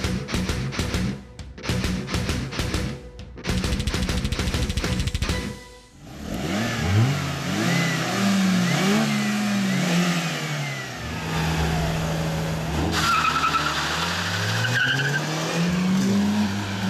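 A Lada Priora with a 1.6 engine and a Kia Rio with a 1.4 engine launch from a race start, engines revving hard and climbing through gears with rising and falling pitch, loud and close, with tire skids and no talk.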